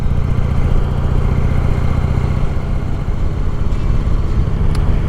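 A motorcycle engine rumbles steadily and loudly throughout while the bike is ridden, a continuous low drone with no speech over it.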